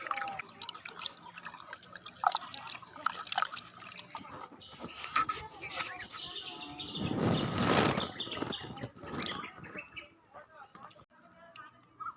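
A hand stirs fermented rice water (leftover rice soaked overnight, served with onion), making close, wet sloshing and dripping sounds that swell loudest partway through, with softer splashes and trickles around them.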